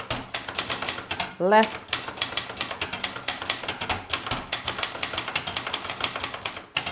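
German typewriter keys strike in a rapid, steady clatter of close, sharp clicks, with a carriage bell or return sweep partway through, while someone speaks over the typing.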